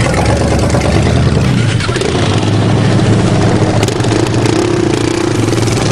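A Suzuki LTZ 400 ATV races a car in a loud, continuous engine drone that roars throughout with mechanical clatter and no clear speech on top.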